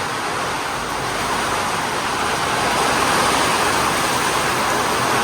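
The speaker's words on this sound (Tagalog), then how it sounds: "Lakas ng hangin." Heavy, steady rush of rain with a roaring wind-like broadband noise, loud and continuous throughout, no voices.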